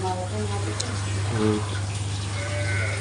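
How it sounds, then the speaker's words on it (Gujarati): Water runs from a tap at a village home, a steady rushing flow under a low hum, with voices speaking faintly in the background. "નળ આપીએ હવે"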